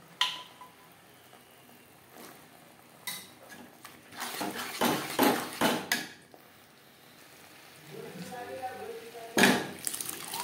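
Boiled peas dropped with their water into a pan of spice masala for street-style ghugni, bringing clattering pot and spoon clanks and wet stirring, with a voice speaking briefly in between.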